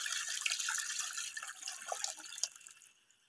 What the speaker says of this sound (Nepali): उताएर अब चाहिँ यसलाई पानी हालेर कठाउँदैछु